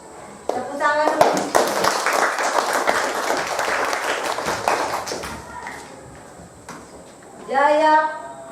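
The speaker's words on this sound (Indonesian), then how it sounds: "Oke, tepuk tangan dulu." Classroom students clap their hands in a burst of rapid, overlapping applause lasting several seconds, with children's voices mixed in and a teacher speaking.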